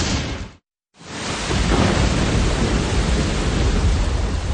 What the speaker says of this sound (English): The Atlanta is weathering the storm,